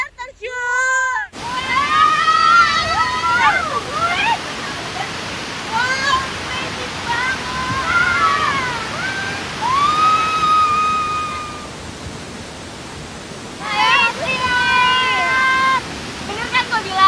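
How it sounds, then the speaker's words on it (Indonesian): A waterfall in a remote rural spot gives a steady broadband rush throughout, with people talking and exclaiming over it and bursts of whistled or sung tones near the start and end. "Gak nyangka ya ada air terjun bagus ini di pelosok-pelosok."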